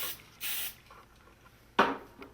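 Two short bursts of hairspray hiss onto a girl's hairstyle, the second sharper and louder, separated by near silence.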